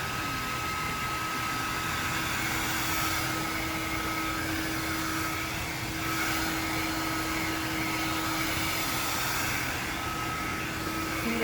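A hair dryer blows steadily on hair wrapped around a round brush during a blow-dry, a continuous broadband whoosh with a faint motor whine holding for the whole stretch, with no talking.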